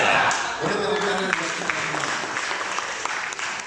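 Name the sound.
applause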